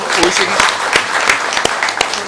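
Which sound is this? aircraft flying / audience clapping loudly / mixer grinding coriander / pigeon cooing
audience clapping loudly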